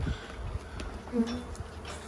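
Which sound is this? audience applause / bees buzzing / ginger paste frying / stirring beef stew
bees buzzing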